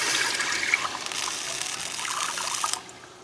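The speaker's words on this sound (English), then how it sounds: "I'm going to add about 6 cups of water." Water pours steadily into a pot for cooking black rice, with a bright, splashing rush for about three seconds, then stops abruptly.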